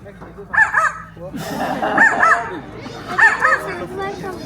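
A voice imitates a dog's bark, giving three short yapping barks spaced out over a few seconds, with faint background murmur.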